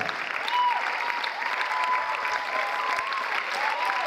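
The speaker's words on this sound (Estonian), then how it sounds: "võib täiesti vabalt edasi plaksutada praegu" Audience applause after an Estonian dance school graduation performance, a steady, dense clapping crowd sustained throughout, with a faint tonal whistle-like sound drifting over it.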